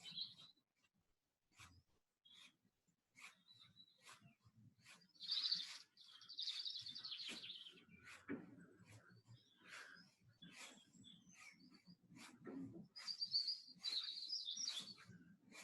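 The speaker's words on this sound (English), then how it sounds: "Lovely noise, like wee birds in the background here." Small birds chirp in scattered short tweets and bursts outdoors, fairly faint, with soft rustling and low noise in between.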